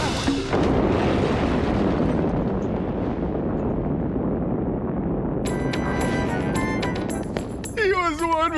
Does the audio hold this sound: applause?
no